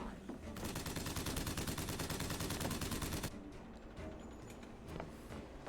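Rapid automatic gunfire from a BioShock Infinite combat encounter, a dense sustained burst of shots lasting a few seconds and then cutting off, followed by quieter scattered game sounds.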